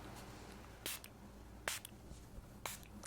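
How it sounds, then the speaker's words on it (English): Three short, soft hissing bursts of a facial mist spray bottle sprayed on the face, spaced about a second apart, over quiet background rustling. "I will spray my face first."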